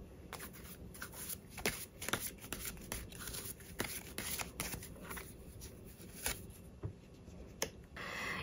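Tarot cards being shuffled by hand, a close, continuous riffling and sliding of cards with sharp flicks scattered throughout.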